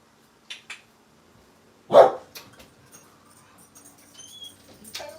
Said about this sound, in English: My dog's freaking out.